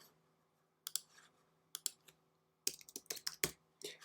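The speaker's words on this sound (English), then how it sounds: "I type that in here." Typing on a computer keyboard: a few isolated key clicks, then a quick burst of crisp, close keystrokes, with no talking.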